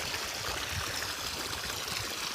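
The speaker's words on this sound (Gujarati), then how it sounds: "અહીંયા પાણી ચાલુ છે." A stream by a farm field flows steadily, a constant dense rush and gurgle of water filling the whole span, moderately loud and close, with no talking.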